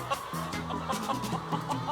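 Pastured chickens on a farm clucking in a busy flock, with overlapping short, rhythmic clucks and soft calls from several birds close by, fairly loud and without talk.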